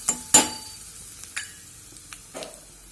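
Red chilies and turmeric hit hot oil in a pan for a Dakshina Kannada snack, giving a few sharp crackles and spits that die down into quiet sizzling between occasional stirring taps.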